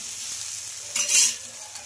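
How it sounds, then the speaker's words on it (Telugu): Chickpea dosa sizzling softly on a hot oiled pan just after being flipped, a steady low hiss with a brief louder burst of crackle midway, no voices. "ఇంకా దోశ కాలిన తర్వాత అయితే తిప్పేస్తున్నానండి."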